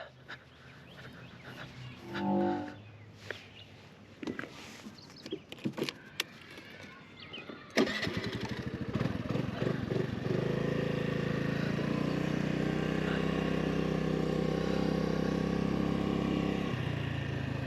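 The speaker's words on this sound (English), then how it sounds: "There's the Honda Navi." Honda Navi motorcycle starting off and riding through a park in Louisville, Kentucky, with scattered handling clicks before a steady droning engine note and wind rush that holds loud and close, then drops near the end.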